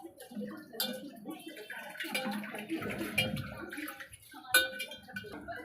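Goat tripe is rubbed and washed by hand in water, making close sloshing, splashing and squelching sounds, with someone talking briefly over the washing.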